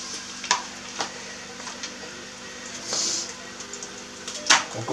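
Chopped onions frying in a pan, a steady close sizzle with occasional clicks and taps from stirring, loud and continuous with no voices.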